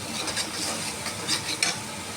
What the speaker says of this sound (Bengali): তাতে 2 মিনিট ভালো করে কষাতে হবে।